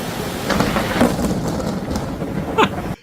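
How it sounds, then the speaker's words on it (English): Thunder rolls through a thunderstorm with steady rain, a low rumbling swell under constant rain hiss, close and loud, ending abruptly. "And the thunder came in right at the same time."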